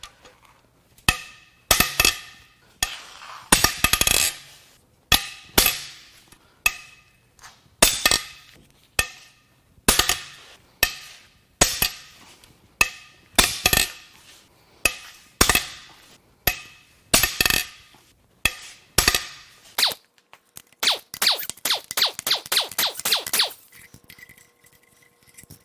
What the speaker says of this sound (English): let's crack these head bolts loose